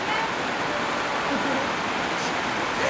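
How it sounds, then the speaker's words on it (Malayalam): Evening rain falls steadily outside a luxury tent, a dense even hiss that stays constant and fairly loud, with a faint voice briefly mixed into the wash. "ഈവനിങ് ആയിട്ട് ഇപ്പോഴും മഴ ആണ്"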